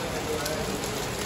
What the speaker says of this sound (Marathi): पाऊस मगाचपासून बारीक होता आणि आता जोरात पडायला लागला.